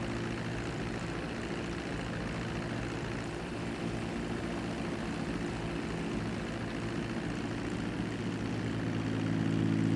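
A seaplane's propeller engine in a video game drones steadily and loudly throughout, a constant low hum with layered harmonics that swells slightly near the end.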